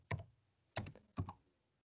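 Computer keyboard typing code, three short separate bursts of clicky keystrokes close to the microphone with quiet gaps between them and no speech.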